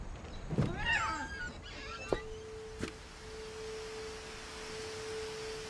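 In the video game What Remains of Edith Finch, a cat gives a short wavering meow over a quiet ambient bed. Two sharp ticks follow, and then a steady thin tone lingers.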